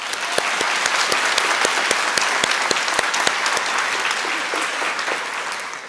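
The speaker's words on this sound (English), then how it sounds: "Please give a round of applause for Ms." Sustained audience applause at an education awards ceremony honoring an Assistant Principal of the Year finalist, dense steady clapping throughout with a few sharper individual claps standing out.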